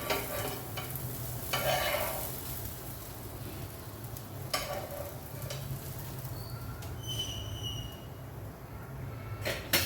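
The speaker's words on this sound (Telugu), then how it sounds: "ఈ సైడ్ కూడా దోష మంచిగా కాలండి" Ragi millet dosa cooks on a hot pan with a steady, soft sizzle and frying hiss, broken by a few scraping stir and spatula sounds. Close and fairly quiet, with no talking.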